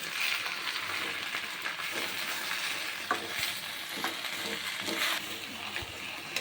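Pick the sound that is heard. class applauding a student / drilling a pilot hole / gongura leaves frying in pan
gongura leaves frying in pan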